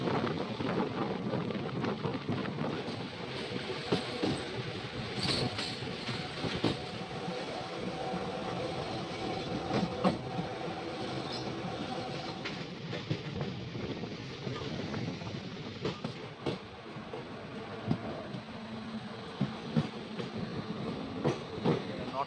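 A Malda special fare express passenger train runs on the rails on a long journey, heard from on board as a loud, steady rumble with rhythmic wheel clatter throughout.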